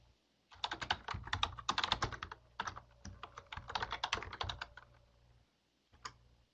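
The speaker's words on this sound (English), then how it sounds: "I just typed in my email address" Quick bursts of computer keyboard keystrokes as an email address is typed, steady and close, with a pause near the end followed by a final key tap.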